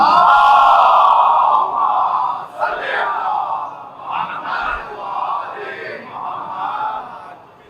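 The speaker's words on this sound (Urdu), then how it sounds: "ایک مرتبہ اور بلندتر صلوات" A large crowd at a Muharram majlis loudly recites salawat in unison, a sustained chorus of many voices that rises and falls in waves.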